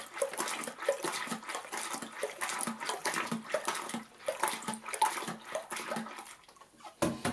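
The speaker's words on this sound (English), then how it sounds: "just continue washing until it's all washed properly." Water splashes and runs as developed Kodak positive slide film is rinsed, giving a continuous irregular sloshing at moderate level with a brief louder splash near the end.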